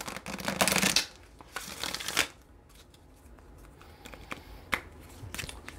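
Tarot cards being shuffled in quick riffling bursts, loudest at the start, then quieter scattered flicks and taps as the deck is handled.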